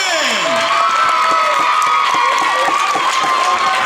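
Loud crowd noise with cheering, whoops and clapping, excited voices shouting over one another at a school gathering, applauding a school supervisor.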